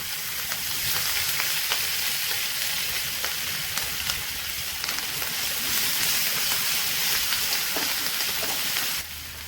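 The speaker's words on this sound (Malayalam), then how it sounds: "കുറച്ച് കറിവേപ്പിലയും കൂടെ ഇട്ട് കൊടുക്കാം. നമുക്ക് ചതച്ച് വെച്ച വെളുത്തുള്ളി ഇട്ട് കൊടുക്കാം, ഇഞ്ചി ചതച്ചതും കൂടി ഇട്ട് കൊടുക്കാം" Curry leaves, crushed garlic and ginger fry in hot oil in a pan, giving a loud, continuous, dense sizzle close up. It holds steady for about nine seconds, with faint stirring scrapes, then drops off abruptly at the end.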